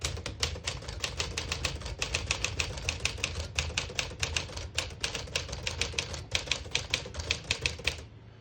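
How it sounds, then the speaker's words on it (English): Rapid, steady clacking of a manual typewriter, keystrokes striking in a continuous rhythm for several seconds before stopping; close and fairly loud, no talking. "Beautiful typing machine."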